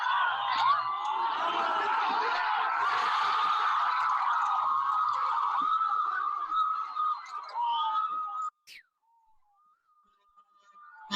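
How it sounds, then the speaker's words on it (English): Crowd at a 2009 high school football game between Eastchester and Rye, a sustained loud roar with whistling for about eight seconds before it suddenly cuts to near silence. "hearing the crowd just be kind of quiet and then boom, there's an explosion"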